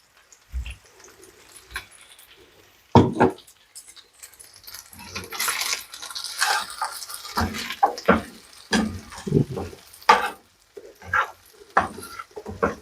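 Ground coconut and cardamom go into frying mutton, setting off irregular bursts of sizzling and spattering mixed with knocks of a utensil against the pan, moderately close.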